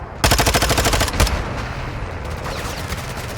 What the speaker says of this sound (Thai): ยิงยางว่ะยิงยางว่ะยางแตกว่ะ